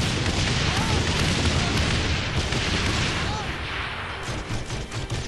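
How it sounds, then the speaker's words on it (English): Grenade launcher firing and explosions booming in Saints Row The Third, a dense, loud barrage of blasts that eases slightly toward the end, with voices talking over it. "You shoot grenades."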